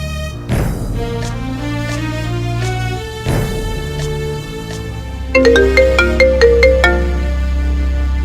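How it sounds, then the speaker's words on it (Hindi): A melodic phone ringtone plays loudly, repeating its tune and then switching to a brighter, quick run of chiming notes. "राजू को फोन लगाती हूँ।"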